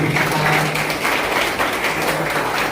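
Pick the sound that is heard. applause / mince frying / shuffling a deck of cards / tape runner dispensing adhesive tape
applause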